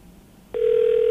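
A telephone rings out on an outgoing call, the line going from near quiet to a steady loud tone partway through that holds to the end, with no one speaking over it.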